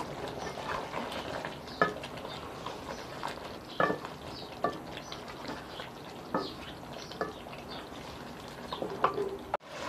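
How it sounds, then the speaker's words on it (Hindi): Chicken korma with turmeric and spices being mixed in a pot gives a low, bubbling sizzle with scattered spoon clinks and scrapes every second or two, fairly quiet and unaccompanied by talk. "अब हम इसको मिक्स करते हैं"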